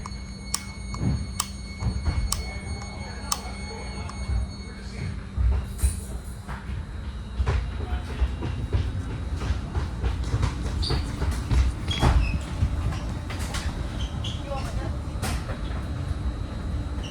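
A Caltrain local passenger train pulls into Santa Clara University station, with a steady rumble and repeated rail clicks and clacks heard from inside the car for the full length, under occasional speech.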